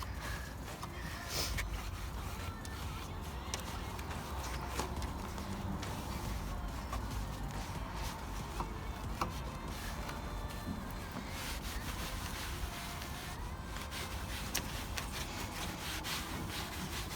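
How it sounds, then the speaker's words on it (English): A microfiber cloth is wiped over a car engine bay during waterless cleaning, a continuous close rubbing and rasping that runs steadily with scattered small knocks and no speech. "I'm just going to go over it with the cloth to get all the thick off."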